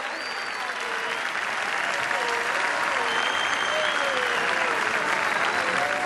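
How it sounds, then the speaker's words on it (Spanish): Steady applause from a sizable crowd at a 2017 Cristina Fernández election event fills the space, continuous and fairly even throughout, with a faint voice or cheer drifting underneath. "Un fuerte aplauso para todos ellos y para todas ellas"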